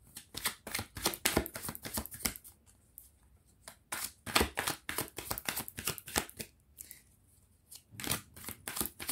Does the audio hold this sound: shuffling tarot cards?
yes